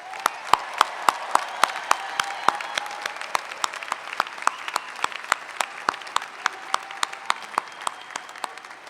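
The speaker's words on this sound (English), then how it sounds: "everyone please join me in one more round of applause" Graduating postgraduate and graduate students receive a round of applause at a university commencement ceremony, a sustained steady clapping from a large audience with sharp individual claps standing out near the front throughout.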